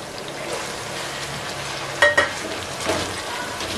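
Ground onion goes into a pan of frying garlic and ginger, bringing a steady, loud sizzle with a sharper burst of crackling and stirring partway through, and no one talking.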